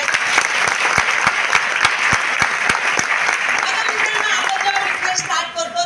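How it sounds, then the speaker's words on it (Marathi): An audience at a lifestyle business talk bursts into loud applause, with several sharp rhythmic claps standing out over the crowd's steady clapping, which thins toward the end as faint voices and other sounds come through. "एकदा जोरदार टाळ्या होऊ द्या."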